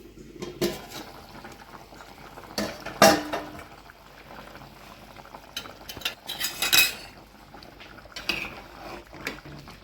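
Metal pot lid lifted off a pot of rock fish curry, with clinks and scrapes of cookware scattered across the clip, a few sharper clanks standing out amid quiet kitchen rustling, no talk.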